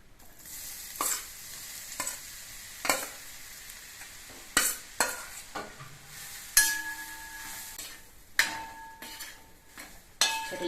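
Jackfruit seeds fry in ghee inside an uruli over a low flame, a soft steady sizzle broken by repeated scraping stirs and occasional metallic clinks and ringing taps, close up with no talk.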